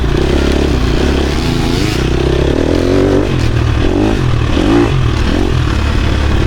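Dirt bike fitted with an FMF Gnarly exhaust pipe riding single track in Michigan, the engine droning loud and close with rising and falling pitch as the throttle shifts, plus clatter from the trail.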